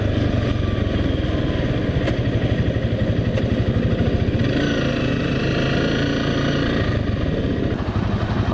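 Engine of a Honda CBR 250RR motorcycle fitted with a replaced, non-racing exhaust, running steadily with a loud, continuous low rumble and pulsing throb close by, with no talking.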